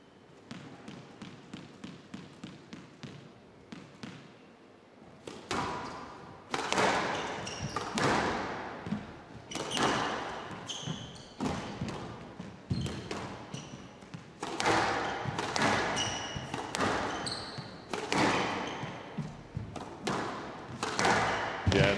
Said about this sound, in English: Nice shot from Hany